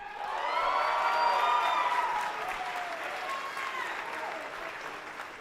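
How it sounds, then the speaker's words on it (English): Clapping and cheering from a crowd at a police academy graduation ceremony swell quickly, with whoops and voices on top, then settle into lighter, steady applause. "Besides having the loudest applause so far"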